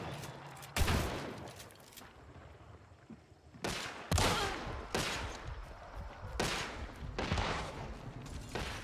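Gunfire in the video game Hunt: Showdown, several loud sharp shots and short volleys spaced over several seconds, each ringing out with echoing tails.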